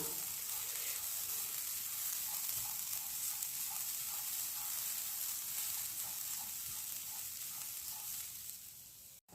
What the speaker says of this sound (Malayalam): ഞാനിതാ ഈ ഫ്രൈ പാനിലാണ് ഞാനിത് വറുത്തെടുക്കുന്നത്